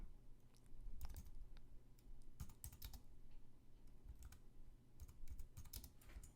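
Typing on a computer keyboard while entering accounting figures into a spreadsheet, with irregular bursts of close, crisp key clicks and short pauses between them, heard alone with no talk.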